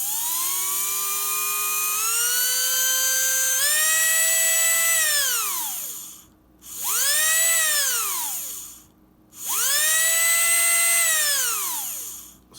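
A brushed electric motor in a Kyosho Optima Mid RC car, fitted with new brushes, whines loudly up close, climbing in pitch in steps, then revving up and winding down in two more rising and falling bursts.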